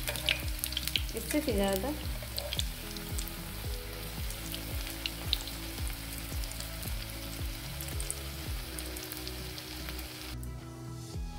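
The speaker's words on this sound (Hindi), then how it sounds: "हमें इस तरह से फ्राई करना है, आप देख सकते हैं कितना ब्राउन है।" Donuts frying in hot oil until deep brown give off a steady, moderate sizzle beneath background music, with a brief spoken phrase.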